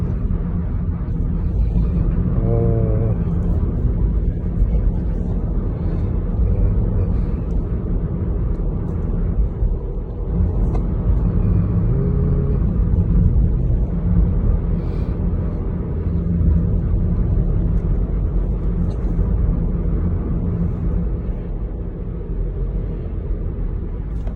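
A quiet Honda car drives along after heavy rain, heard from inside as a continuous low rumble of road and engine noise, with a couple of brief tonal squeaks.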